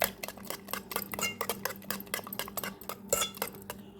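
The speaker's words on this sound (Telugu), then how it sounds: "ఇలా కొంచెం కొంచెం వేసుకుంటూ అయితే షుగర్ పౌడర్ని మిక్స్ చేసుకోవాలండి." Powdered sugar is mixed into beaten egg and butter for homemade muffins, with quick rhythmic spoon or whisk clinks and scrapes against a bowl, close and steady throughout.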